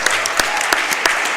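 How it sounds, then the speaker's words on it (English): Brief applause at a Summer Games Done Quick speedrun event, with a handful of distinct, sharp claps standing out over a continuous clapping wash. "Let's have one more round of applause."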